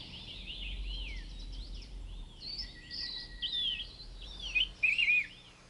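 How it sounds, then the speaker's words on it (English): Loud, ringing calls of Taiwan laughing thrushes in rising and falling phrases, several birds chattering together with a steady low rumble underneath, in forest. "The Taiwan laughing thrush is an endemic species whose very loud call"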